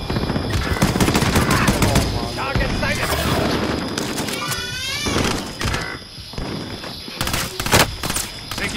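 Rapid shooter video game gunfire in a sweaty lobby with a DMR in play, dense sustained bursts of shots throughout, loud and close, with voices talking over parts of it.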